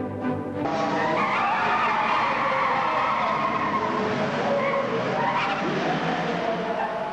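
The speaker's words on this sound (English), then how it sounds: "The three green Avenger GTs of Bernard Unet, Jenny Birrell and Adrian Boyd, entered by Halesfield Motors, lead the third race at Silverstone" Green Avenger GT race cars at Silverstone, racing loudly and close by, with a dense, continuous roar of engines and tire noise that stays strong throughout, alone without talk.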